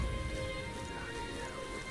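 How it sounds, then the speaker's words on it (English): Steady rain in the video game Metaphor ReFantazio, a constant dense patter that fills the scene evenly from start to end with no voice over it. "Rain."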